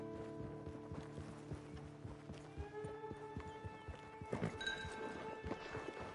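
Horse hooves clip-clop at a walking pace in the Red Dead Online video game, faint, even steps under a sustained musical score.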